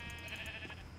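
A Minecraft sheep gives a single wavering bleat, fairly faint and brief, heard alone without talk.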